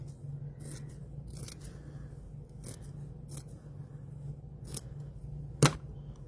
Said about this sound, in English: So let me cut a strip of fabric.